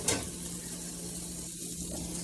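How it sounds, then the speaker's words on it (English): Venison burgers frying in a pan, a steady close hiss of sizzling fat with no talking. "You can hear it probably sizzling there."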